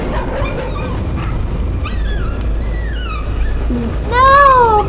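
Dog whimpering in the horror video game Layers of Fear: thin, high, falling whines scattered over a low droning game ambience, with a louder, drawn-out whine near the end.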